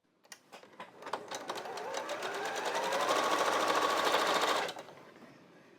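A sewing machine stitching quilt pieces together with a scant quarter-inch seam, starting with a few quick stitches, then running as a fast, even rattle for about four seconds before stopping.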